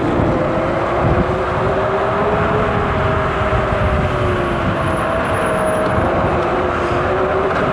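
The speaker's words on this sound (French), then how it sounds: "Écoute le bruit du pneu avant, écoute." The front tyre of an Angwatt C1 Max 6000-watt electric scooter makes a loud, steady roar and whine on the road at speed, with a continuous rushing drone.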